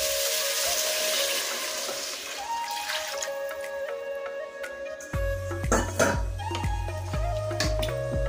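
Chicken broth is poured into a pan on low heat while cooking pancit bihon, giving a steady liquid splash and trickle with light clinks of cookware, and a deeper, fuller pour sound comes in over the last few seconds.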